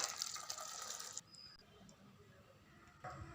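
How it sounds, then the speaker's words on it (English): Boiled chickpea cooking water pours through a strainer, a soft splashing gush that stops partway through and then resumes briefly near the end, faint and close in a quiet kitchen. "Now using a filter, strain the water."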